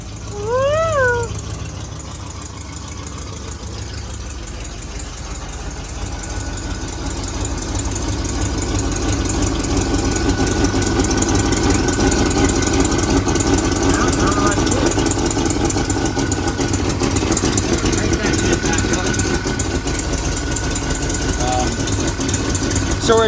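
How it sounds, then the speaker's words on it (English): A restored 1970 Mercury Cougar Eliminator with a 428 Cobra Jet V8 idles right after its first start. The steady, loud, rumbling idle swells slightly after the opening seconds, and people speak intermittently beneath it. "The 1970 Cougar Eliminator is getting its firing on, son."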